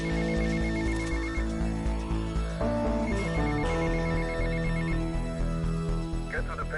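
In GTA Vice City, a payphone rings with repeated electronic bell bursts over steady background music and game sounds.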